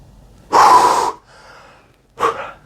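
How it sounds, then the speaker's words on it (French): After lifting a heavy life-size Aquaman statue, a man breathes hard nearby: a loud, rough gasp, a quieter exhale, then another sharp breath. "vous pouvez l'entendre au son de ma voix, je suis essoufflé"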